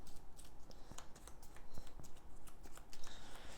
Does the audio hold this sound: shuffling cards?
yes